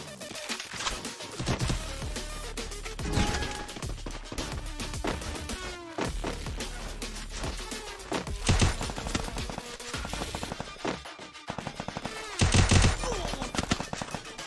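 Video game gunfire rattles in repeated rapid bursts and single cracks, fairly loud and close, spread through the stretch with occasional heavier impacts and brief pauses.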